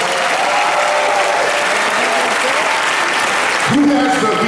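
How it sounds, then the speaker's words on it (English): A large expo crowd gives a loud, sustained round of dense applause that fills the space evenly, with a voice briefly rising over it near the end. "A round of applause."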